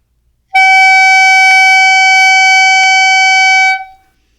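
A clarinet holds one long, steady sustained tone for about three seconds, loud and close, with a clean start and a gentle fade at the end, played alone.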